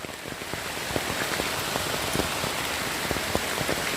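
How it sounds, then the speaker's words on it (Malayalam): Heavy monsoon rain pours steadily near the overflowing Kandamkunnu river, a dense, even hiss of drops pattering on surfaces close by, continuous with no talking. "നല്ല മഴയാണ്, നല്ല വെള്ളം കയറുന്നുണ്ട് പുഴയിൽ."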